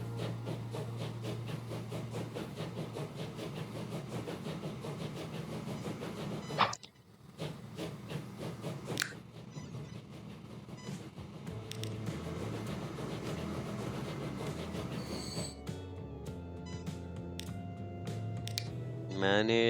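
A train runs in the Transport Fever 2 game with a continuous rumbling, hissing rail sound and clicking interface noises, interrupted by brief gaps, while a person talks over it.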